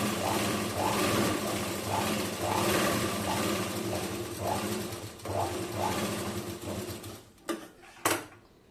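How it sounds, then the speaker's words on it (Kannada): A tailoring sewing machine stitches fabric in a steady, rapid mechanical rhythm that carries close and loud for about seven seconds, then stops, leaving a couple of brief clicks and knocks from the machine. "ಈ ಥರ ದೊಡ್ಡ ಹೊಲಿಗೆ ಹಾಕೋಬಿಟ್ಟು ನೋಡಿ ನೀಟಾಗಿ ಬಂತಾನೆ"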